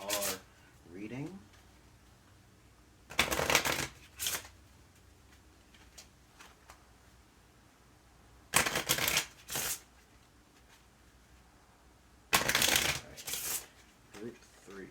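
Cards from a Cards Against Humanity deck shuffled up close in three brisk riffling bursts, each followed by a short softer shuffle, with quiet pauses between.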